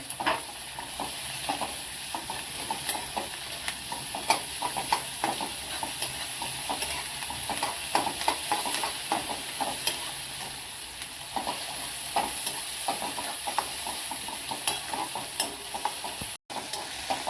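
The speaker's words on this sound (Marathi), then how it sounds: "कांदा थोडासा भाजला त्याच्यात लसूण आणि किसलेलं आलं टाकायचं ते चांगलं परतून घ्यायचं" Onion, garlic and grated ginger sauté in a pan for street-style veg noodles, with a continuous close sizzle and frequent scraping stirs and clicks throughout, no talking.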